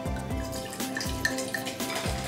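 Sake poured into a martini shaker holding mint, lime juice and agave nectar, a close liquid trickle and splash with a few glugging pulses and light drips, no talking.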